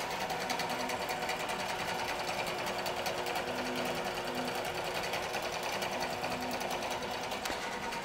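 A QBOT V3 computerized quilting machine stitches an edge-to-edge pattern across a quilt, giving a steady, continuous mechanical whir with a fast stitching rhythm throughout, fairly close and unbroken.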